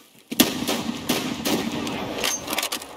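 Gunfire in the video game Escape From Tarkov: several sharp, close shots crack out irregularly over a continuous rumbling background, with some quick successive reports.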